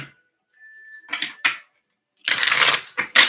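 Tarot cards being shuffled by hand: a few short riffling bursts near the start, then a louder, dense rustling shuffle lasting about a second, followed by two quick snaps of cards, close and alone.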